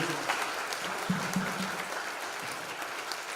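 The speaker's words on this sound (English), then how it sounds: "Let's give this tour a round of applause for you." A church congregation at a Sunday service claps for a visiting tour group from Japan, a steady, moderately loud wash of applause with a faint voice underneath.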